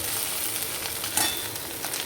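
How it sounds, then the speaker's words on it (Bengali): Ganges mourala fish fry gently in a little oil in a pan, giving a soft, continuous sizzle with a brief louder crackle partway through, close and without any speech. "আর এদিকে সেই গঙ্গার মোড়লা আস্তে করে দিয়ে ভাজতে দিই"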